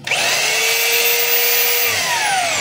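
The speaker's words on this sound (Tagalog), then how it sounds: "So testing natin yung hammer mga kabay kung gumagana." A DeWalt D25032 rotary hammer runs continuously at close range, a loud, steady high-pitched motor whine with a dense buzzing drone that holds for several seconds before pitch slowly falls, with no talking.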